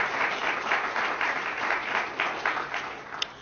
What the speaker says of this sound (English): Big round of applause for Bernie.